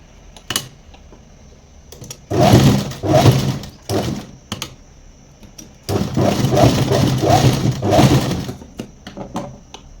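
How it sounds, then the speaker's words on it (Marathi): An electric sewing machine stitches a cord onto fabric in two rapid mechanical bursts, each a few seconds long, with short pauses between. The machine is close and fairly loud. "यावरती एक शिलाई मारून घ्यायची"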